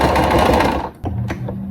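A sewing machine stitches a bag in a loud, steady dense run that cuts off abruptly, followed by a few brief clicks and a lower, quieter hum.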